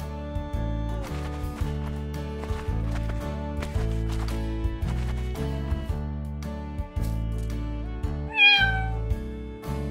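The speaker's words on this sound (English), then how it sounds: "Cat." A cartoon cat gives a single short, rising meow near the end. Before it, a bouncy music track plays with plucked notes and clip-clop percussion, and the meow sits on top of the music.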